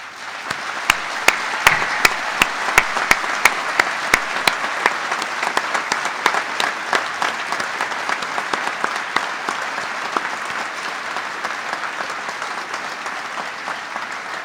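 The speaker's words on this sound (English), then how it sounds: "acknowledge this support with a hearty round of applause" A large crowd at a university graduation ceremony applauds steadily for the whole stretch, with dense clapping and a few sharper claps standing out near the start.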